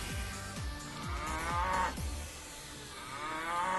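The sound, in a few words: cow moo sound effect in Disney Infinity 2.0 video game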